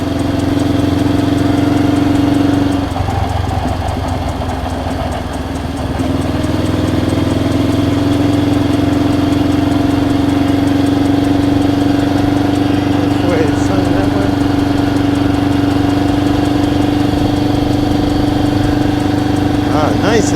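A Honda CL77 Scrambler motorcycle engine idles steadily and close, with a constant low hum throughout and a slight roughening of the tone early on.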